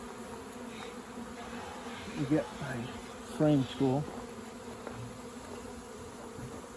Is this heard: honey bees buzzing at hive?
yes